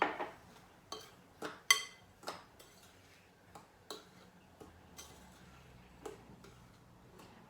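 A spoon taps and scrapes in a bowl while a toilet bomb mixture scented with lemongrass is stirred, giving sharp, irregular clinks over a quiet background, close and fairly faint.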